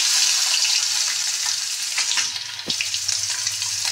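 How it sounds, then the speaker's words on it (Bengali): Steady, bright sizzling and crackling of fish frying in oil in a pan, continuous throughout with a few small clinks and pops, close up. "চলুন এই মাছটা ভাজা হয়ে যায়"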